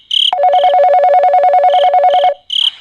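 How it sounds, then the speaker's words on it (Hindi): A telephone rings loudly and close with a rapid warbling electronic trill, framed by brief higher chirps before and after the main ring. "अरे ये इतनी रात को किसका फोन है?"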